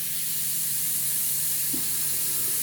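A Gaahleri Swallowtail airbrush sprays paint in a continuous, even, close-up hiss of air that holds steady from start to finish.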